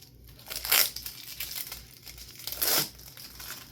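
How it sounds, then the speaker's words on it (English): Plastic wrapping being pulled off Hampton Bay Glendale ceiling fan blades, two loud close crinkling, tearing bursts with quieter rustling between them. "I'm gonna unwrap them."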